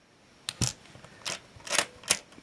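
A Mercury II camera shutter fires at several different speeds, five sharp separate mechanical clicks spaced roughly half a second apart, close and crisp against a quiet room with no talking.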